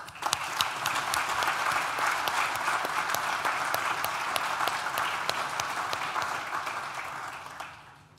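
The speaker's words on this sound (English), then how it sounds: "Please join me in thanking them with a well-deserved round of applause" Sustained applause from a large audience at a Nottingham Business School graduation ceremony, a dense, even roar of many hands that fades slightly at the end.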